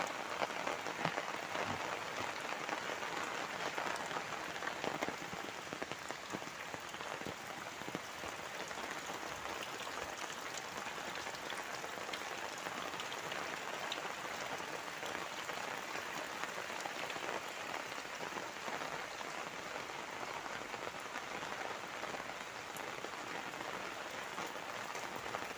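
Heavy rain pours steadily over a lush village, a dense unbroken hiss of drops drumming on surfaces, constant and fairly close throughout with no voices.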